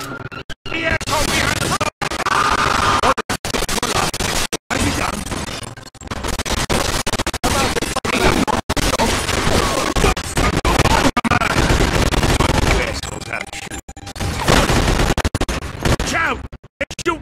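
Dense video-game gunfire from Mafia 2, a chaotic fusillade of rapid shots and bursts filling the whole stretch at high level, with a few abrupt silent gaps and voices shouting among the shooting.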